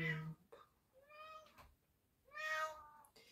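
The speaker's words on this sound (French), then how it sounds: "Le plus dur c'est mes chats. Ils pleurent, ils se battent, ils chantent" Domestic cats meow repeatedly at close range, several drawn-out rising and falling cries with short pauses between them and a faint voice in the background.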